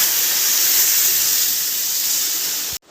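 Water poured into a hot pot of rice for ilish pulao sets off a loud, steady steam hiss that runs unbroken and then cuts off abruptly.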